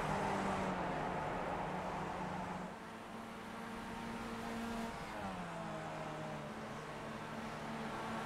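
Race cars at Summit Point circuit, engines droning steadily at a distance with shifting pitch as the lead pair pull away, a continuous mid-level motor hum with no talk.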